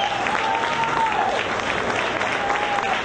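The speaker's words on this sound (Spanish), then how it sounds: "Pero un aplauso más fuerte, por favor" Loud, steady applause from an audience at a mariachi ceremony, a dense wash of clapping crowd filling the short clip without pause.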